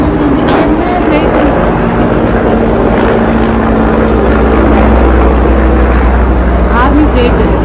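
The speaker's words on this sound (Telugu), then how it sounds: "అరే ఫ్లైట్ వస్తుంది, ఫ్లైట్" An army aircraft passing over Jammu, a broad engine roar rising and lingering as it flies overhead, heard outdoors beneath people talking and occasional wind buffeting.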